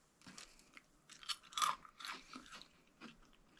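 Close, crisp crunching as a piece of freeze-dried fruit is bitten and chewed, a series of dry crackling bites over a few seconds.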